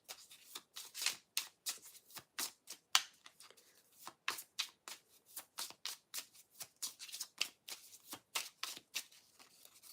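Tarot cards being shuffled by hand: a quiet, close series of quick riffling bursts in a steady, uneven rhythm with short pauses between them, with no talking.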